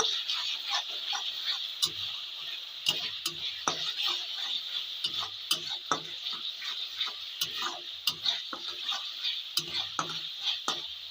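A spoon stirring cauliflower curry in a pan after cumin powder goes in, with a steady frying sizzle underneath and frequent close scraping ticks of the spoon against the pan, with no talking.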